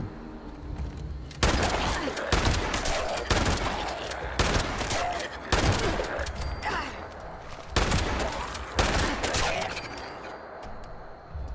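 Shotgun fire in the video game Fallout 76, in a zombie-filled town area: loud repeated blasts at irregular intervals, several within the clip, each with a sharp onset and a short decaying tail over game ambience.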